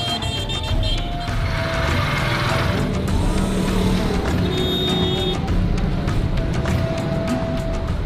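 Heavy traffic in the alleys of Lahore makes a dense, continuous street din of engines and motorbikes, with scattered horn toots and clatter close by.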